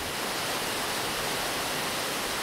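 The Orhon River, high in the uplands at over 1800 metres, drops suddenly over a waterfall, giving a steady, dense rush of falling water that holds at an even level throughout, with no voices.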